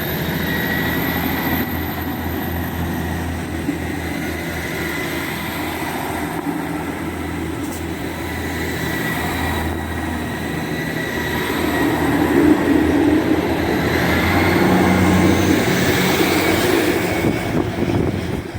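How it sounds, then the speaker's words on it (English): A triple-unit Class 158 diesel train departs North Queensferry station, its engines droning steadily and building louder toward the end as it pulls away, with no voices heard. "Departing is a triple 158 service from Edinburgh Waverley to Glenrothes"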